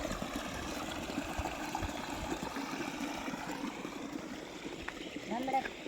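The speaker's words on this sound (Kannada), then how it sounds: "ಇಲ್ಲಿ ನೀರು ಎಷ್ಟು ಚಂದ ನಡ್ದಾವ." Water flowing steadily through a channel in a farm field makes a continuous close trickling and gurgling rush, with a faint voice briefly audible near the end.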